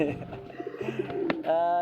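Pigeons coo in a loft at a racing-pigeon breeding farm in Banjarnegara, with a near, rolling, throaty call rising into a sustained note at the end.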